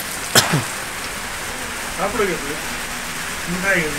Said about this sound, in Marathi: बिनकामीचा पाऊस आहे